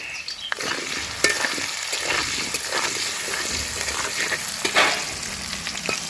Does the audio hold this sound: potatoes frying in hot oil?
yes